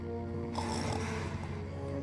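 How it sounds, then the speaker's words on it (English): Loud, steady snoring from a sleeper in a bedroom in the Thief fan mission Insurrection, a continuous rasping drone with game ambience and no talk. "This leads to a bedroom of someone else snoring."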